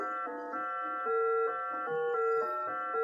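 An ESP32-driven stepper motor steps at varying rates to play notes, producing a steady electronic whine that jumps between distinct pitches in a short, tune-like sequence of sustained tones, clear and close with no talking.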